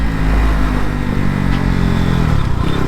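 A motorcycle rides along with the engine braking and no brakes applied, its running low-oil engine giving a steady loud drone with wind roar throughout, heard close and continuous.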